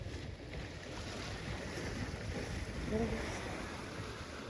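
Sea waves washing in on the shore, a faint, steady rushing surge with wind underneath and quiet human voices in the background.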